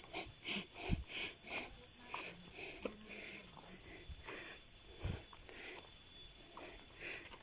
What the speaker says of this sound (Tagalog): Kakaiba talaga yung tunog ng kulisap